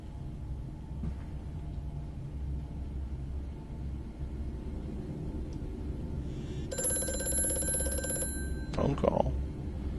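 A telephone rings in the horror game Amnesia: The Machine for Pigs, a short burst of electric bell ringing in the latter part of the clip over a low droning game ambience, with a brief voice just after.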